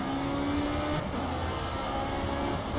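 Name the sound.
race car accelerating in the Project Cars video game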